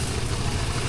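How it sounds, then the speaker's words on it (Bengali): Maize threshing machine engine running steadily at a riverside char village in Faridpur, Bangladesh, a loud continuous low mechanical drone with rattling clatter, close and unbroken throughout, no voices. "এখানে যেহেতু মেশিন চলছে, এই কারণে কিন্তু অনেক শব্দ হচ্ছে"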